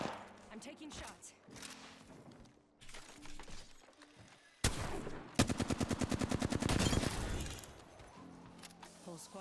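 Video game gunfire cracks in scattered single shots, then a rapid automatic burst, during an online pub match, with players talking faintly underneath.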